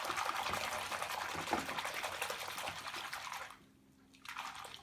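Soft shower-filtered water being stirred by hand with soap in a bathroom basin, a steady sloshing, splashing wash that drops away briefly near the end before resuming.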